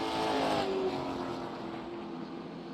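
A number 16 race car in red and white rolls off pit road at a Kern County short track, its engine a steady loud drone that eases slightly over the stretch with no talk.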